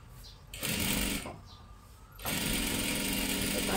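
A sewing machine stitches along the very edge of dress fabric in bursts: a short run, a pause as the cloth is turned, then a longer steady run of rapid mechanical whirring close by.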